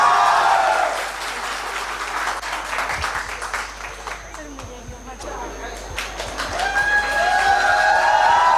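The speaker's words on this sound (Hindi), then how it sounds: "तालियां बजा जाए" Audience applause at a school Teachers Day celebration, a steady wash of clapping that swells loudly at the start and again toward the end, with voices heard faintly underneath.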